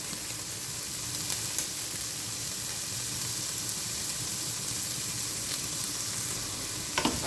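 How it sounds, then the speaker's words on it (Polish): Steady, dense sizzling of food with garlic frying in a pan, continuous and close, with a few faint clinks near the start and end. "I wszystko smażymy przez jakieś 2-3 minuty."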